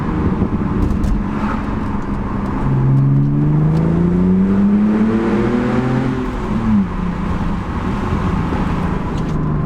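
A BMW Z4's engine revs up and climbs smoothly in pitch while driving, then drops back as the throttle lifts, heard from inside the car over steady road and wind noise.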